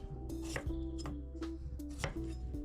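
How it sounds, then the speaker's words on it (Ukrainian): A knife chops potatoes into medium chunks on a board, a few sharp, unevenly spaced cuts close up over a steady low background hum, with no one talking. "починаємо з нарізання картоплі. Картоплю ріжемо не дуже крупно."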